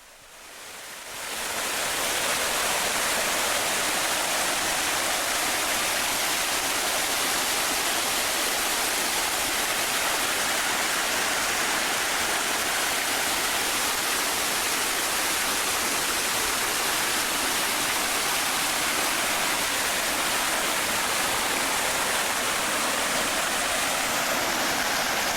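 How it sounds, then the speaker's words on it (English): A decorative fountain sprays and splashes in a dense, steady hiss of falling water that swells in within the first two seconds and then holds constant and fairly loud, with no voices. "Then they have a nice fountain here too. And I love the sound of water too."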